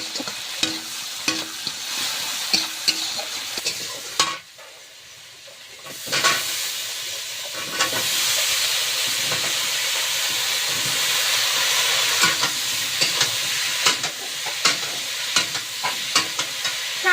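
Crabs and water lily stems tossed in a wok with panch phoron spice, a steady loud sizzle and hiss with scraping stirs, briefly dropping to near silence before the frying resumes.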